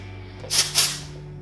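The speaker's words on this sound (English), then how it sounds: "spray it into sections around the root, just small bits" Two quick bursts of hairspray from an aerosol can, aimed in small sections at the roots while styling messy waves, close and crisp over a steady low hum.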